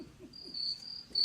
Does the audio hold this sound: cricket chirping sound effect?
yes